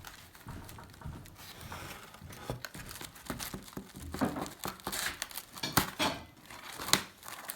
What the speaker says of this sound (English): We had a pizza issue. We got to cut the pizza.